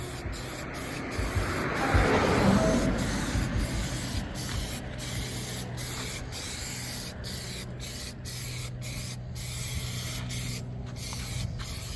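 Spray paint hisses from an aerosol can onto faded plastic trim on a Lexus RX, with one longer spray early and then a string of short, close bursts separated by brief pauses.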